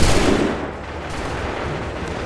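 A massed musket volley booms in a video game battle scene, a loud burst of gunfire at the start that decays into a rolling, rumbling echo and battlefield noise.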